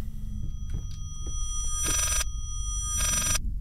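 A telephone bell rings in the horror video game Layers of Fear, two loud bursts of ringing, each about half a second long, with low ambient rumble and scattered thuds between them.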